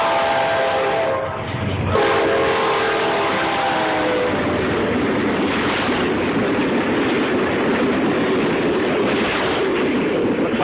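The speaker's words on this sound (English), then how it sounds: "And already there's a train coming," A passenger train bears down and rushes past quickly near an Alviso slough by a landfill, a sustained loud roar of wheels and cars with a horn sounding early on, close and steady throughout.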